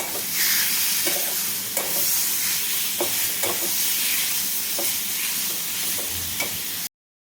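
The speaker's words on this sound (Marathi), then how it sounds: "त्यानंतर घालते मॅरिनेट केलेली कोळंबी मिक्स करून घेते" Marinated prawns sizzle and fry in a pan for prawn masala, with a steady hiss and regular scraping stirs of a spatula, close and fairly loud, ending abruptly.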